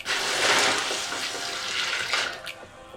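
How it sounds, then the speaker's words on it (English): Boiling hot water poured over turtle tank rocks in a sink: a steady, rushing splash of running water close by, continuous for about three seconds, then easing slightly near the end. "Here is the boiling hot water."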